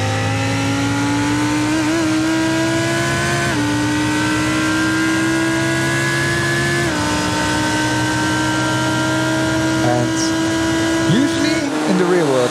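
A Lamborghini race car in a sim racing endurance race drones at steady high revs, with sharp upshifts stepping the pitch every few seconds and a burst of revving near the end, loud and close.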